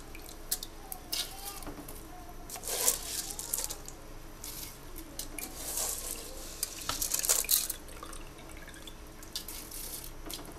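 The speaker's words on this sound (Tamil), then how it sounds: "நான் பாஸ்மதி அரிசியை அரை மணி நேரத்துக்கு முன்னாடி ஊற வச்சு வச்சுருந்தேன். அதை எடுத்து இதில் சேர்த்துக்கலாம்." Soaked basmati rice is tipped into a pot of mutton biryani, giving intermittent wet splashes and sloshing with soft sizzling and stirring scrapes, moderately close and fairly quiet.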